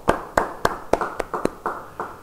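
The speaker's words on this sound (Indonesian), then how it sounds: "Yang mau beri tepuk tangan bagi dia." A church congregation claps along in a loose, even rhythm of about eight sharp hand claps, close and alone without talking.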